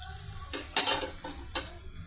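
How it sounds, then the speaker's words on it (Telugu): Garlic pieces and green chillies frying in oil, a steady close sizzle punctuated by several sharp scraping stirs of a utensil against the pan. "కొద్దిపాటి వెల్లుల్లిపాయ పీసెస్, ఓ పచ్చిమిర్చి 2 పీసెస్ లాగా కట్ చేశానండి. ఆయిల్లో ఫ్రై అవుతున్నాయండి."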